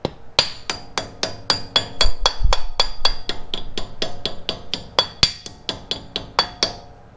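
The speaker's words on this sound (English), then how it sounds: "use a rubber mallet to put it on" A rubber mallet strikes a ball joint on a 2000 Toyota 4Runner in a steady run of about twenty sharp, close blows with bright ringing metallic clinks.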